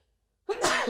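A single close, loud sneeze bursts out after a moment of silence, sharp and breathy, heard alone.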